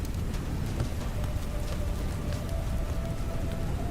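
Heavy downpour in the video game Path to Nowhere, falling on a brick and stone manor, a steady hiss of rain with scattered drop ticks, moderately loud and continuous without voices.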